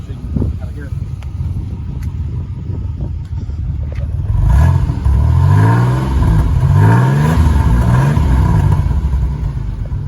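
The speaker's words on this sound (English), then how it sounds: "I'll rev her up there so you can kind of hear it." A 1990 Pontiac Grand Prix STE engine idles with a low rumble, then revs up loudly in two rising sweeps from about four seconds on, heard close by.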